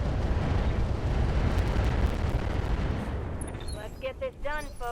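A 160-missile salvo slams into a mech in the BattleTech mod Roguetech, making a dense, roaring wall of rapid explosions that fades near the end as a voice begins speaking.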